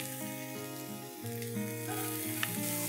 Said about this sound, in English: Saute this and add in the chopped onions.